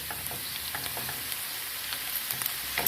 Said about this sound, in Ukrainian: вона вже цибулька почала смажитися прямо